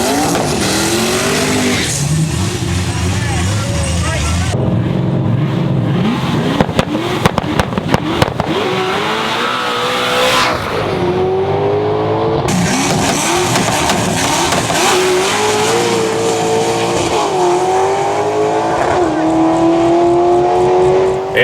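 Race cars roar down a drag strip, including a turbocharged Corvette. Loud engines rev and scream continuously, with pitch sweeping up through gear changes. A few sharp pops and crackles sound over the din, and a voice talks beneath it.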